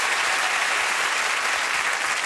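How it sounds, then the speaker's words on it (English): Dense, steady applause from a television studio audience, loud and continuous throughout, a uniform wash of many hands clapping with no talking over it. "Don't applaud. Well, might as well."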